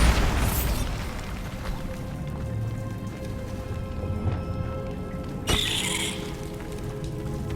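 A Bombarda spell explosion in Hogwarts Legacy, booming blasts with scattered pops and debris crackle, including a sharp burst late on, loud and close.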